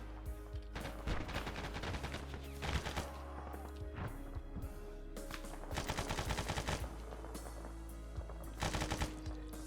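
Rapid bursts of automatic rifle and machine-gun fire from AI soldiers in ARMA 3, a dense firefight of overlapping shots at close and middle range, with repeated clusters of cracks throughout.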